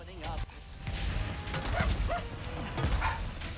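Dogs barking in a Ratchet & Clank Rift Apart fight, a few sharp yips and barks over clanking mechanical game noise, with a voice talking in the mix.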